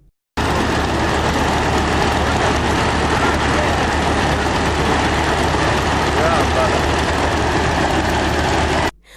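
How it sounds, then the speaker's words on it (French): Homemade propeller aircraft engine running on the ground before takeoff in the Patte d'Oie district of Ouagadougou, a loud, steady, continuous droning hum lasting about nine seconds, with a voice speaking over it. "Le vol KHKR 45AR, hélice battante, ronronne ici à la Patte d'Oie dans l'arrondissement 12 de Ouagadougou"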